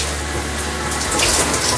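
Shower water runs over hair, a close, loud, steady hiss and gush that grows fuller and splashier toward the end, with no speech.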